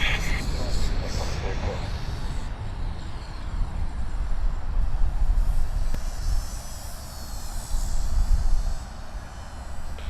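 An airliner takes off at Sydney Airport, its engine roar a steady broad rumble from a distance that swells and fades slightly, while radio chatter and voices run beneath it.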